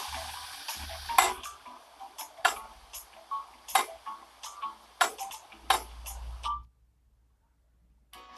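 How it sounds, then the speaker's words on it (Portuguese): A mechanical clock escapement ticks in sharp, fairly regular clicks with a faint low hum beneath, then falls silent near the end before one last click. "O escape é um mecanismo de tic-tac em intervalos regulares e de intervalos iguais."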